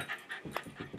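A dog pants in quick, rhythmic breaths close by, with a faint high whimper slipped in between the breaths over a single brief second.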